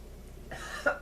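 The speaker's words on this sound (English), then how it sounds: "This really made me cough." A single short cough, faint and close, rising abruptly out of quiet room tone.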